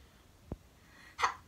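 A single short sneeze bursts out close to the microphone in a quiet indoor room, preceded by a faint click.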